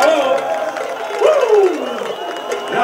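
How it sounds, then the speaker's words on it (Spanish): A concert crowd at a Puerto Rico National Salsa Day show cheers and applauds in a loud, continuous roar, with a voice speaking over it. "aplauso viene, ahora sí que se acabó."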